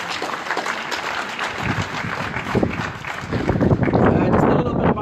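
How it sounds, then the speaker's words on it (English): An audience claps for sponsors at a welcome event for a rally racer, a rough, uneven burst of applause that swells louder toward the end, with some voices mixed in. "a big thank you and a round of applause to those people that got me there"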